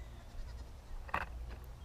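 Goats in a shelter, one short bleat cutting through a low steady background rumble, fairly close and brief, with no talking.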